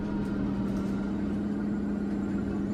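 A steady, droning motorbike engine idling at close range in the video game ScarFall 2.0, a constant mid-pitched hum with no breaks.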